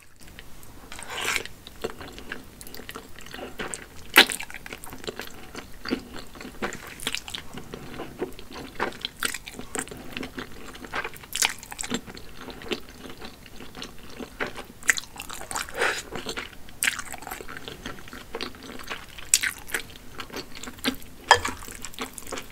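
Someone eats spicy Shanxi pulled noodles with egg and kimchi close to the microphone, with irregular bites, slurps and wet chewing sounds over about twenty seconds.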